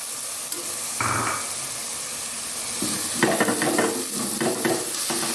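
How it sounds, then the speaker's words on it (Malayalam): Tomatoes and ginger-garlic paste sizzle steadily in a hot pan for a beef curry, with a few stirring scrapes and clinks near the end; no voices. "ജിഞ്ചർ ഗാർലിക് പേസ്റ്റ് ചേർത്ത് കൊടുക്കാം നമുക്ക് നമുക്കതിലേക്ക് അരിഞ്ഞു വെച്ചിരിക്കുന്ന രണ്ട് തക്കാളി കൂടി ചേർത്ത് കൊടുക്കാം"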